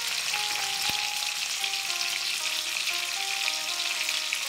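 Salted potatoes fry in a pan with a bright, continuous crackling sizzle and a few small clinks of utensils, steady and close, with no voices.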